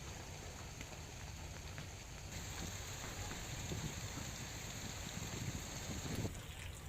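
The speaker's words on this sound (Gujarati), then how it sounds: "જિલ્લાના મહુવા પંથકમાં વરસાદ જોવા મળ્યો" Steady light rain falling in rural Mahuva area villages, a soft continuous patter and hiss of drops, faint and even throughout with no talk.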